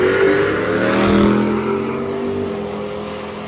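A pair of Chevrolet S10 trucks launching off the line at a street-car drag racing event, engines roaring loudly at high revs and then easing as they pull away, with no voices.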